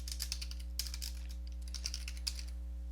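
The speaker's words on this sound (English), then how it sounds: "you want to type in command prompt." Someone types on a computer keyboard in quick, light key clicks arriving in short bursts, close and fairly faint, over a steady low electrical hum.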